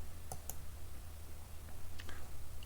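A few faint, quick computer mouse clicks while working through a software tutorial in a program called JTI BlackBoard Tutor, two close together early and two more near the end over a low hum.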